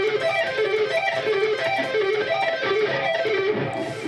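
Electric guitar sweep picking repeats quick rolling arpeggios, each note distinct, in a steady cycling rhythm played alone with no talking.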